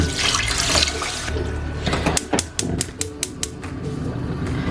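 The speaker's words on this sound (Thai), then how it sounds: "หลังจากที่เราแช่น้ำไปครึ่งชั่วโมงนะคะ คุณก็จะใส่น้ำลงไปนะคะ" Water is poured into a pot of rice that has soaked for half an hour before cooking: a steady splashing rush for about a second, followed by a run of sharp, evenly spaced clicks and ticks close by.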